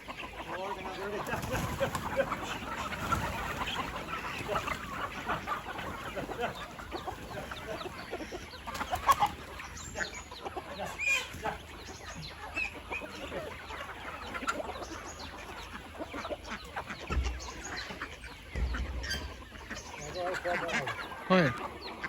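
Chickens cluck and murmur around a poultry farm of about 220 birds, a busy low chorus of fowl at moderate distance with people talking over it throughout.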